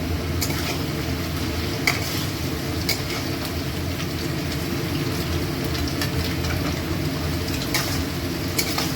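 A pan of potatoes sizzles steadily as they lightly fry, with a constant crackling hiss punctuated by occasional clicks of stirring.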